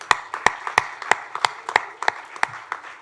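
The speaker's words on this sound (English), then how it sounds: "Let's give them a big round of applause." Sparse, distinct claps ring out at an angel investor conference, about ten sharp hand claps in a steady rhythm, close and fairly loud, with little crowd noise behind.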